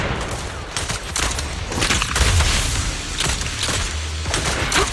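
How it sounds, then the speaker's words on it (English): Gunfire from Grim Vulture in the Zenless Zone Zero video game: rapid, dense volleys of shots and thumping impacts, loud and continuous, layered with battle effects. "Watch out for Grim Vulture taking shots from afar!"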